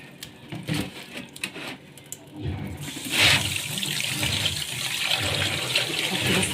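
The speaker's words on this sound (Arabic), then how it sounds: "حط بس عليه شويه ميه كده برضو" Tap water pours into a kitchen sink while fish and lemon are being prepared, starting with a few clanks and splashes, then a steady, fairly loud rush of running water.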